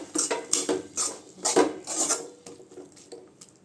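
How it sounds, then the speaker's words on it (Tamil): Cabbage kootu with grated coconut is stirred in a pan with the heat off. A spoon scrapes against the pan in a steady run of short strokes, close and moderately loud, with no talking. "அந்த சூட்லேயே கொஞ்சம் நல்லா கிண்டி விடுங்க"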